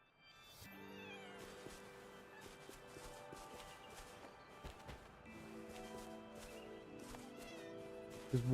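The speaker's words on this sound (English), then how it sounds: "2 cats here." Cats meow repeatedly in the video game Wuthering Waves, several drawn-out mews overlapping against a soft background of game music and footsteps.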